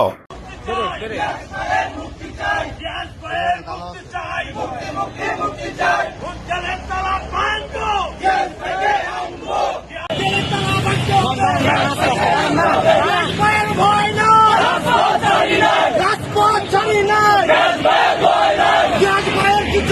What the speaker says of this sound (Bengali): বিক্ষোভ মিছিল করছে নারায়ণগঞ্জ জেলা বিএনপি সহ তার অঙ্গ সংগঠনের নেতৃবৃন্দ